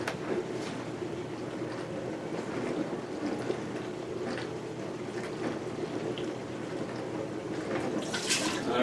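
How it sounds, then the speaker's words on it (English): Water poured into the inner pan of an Instant Pot, about three cups, with a steady, continuous splashing rush close by and no talking. "What they said was they want you to put 3 cups of water in the pan."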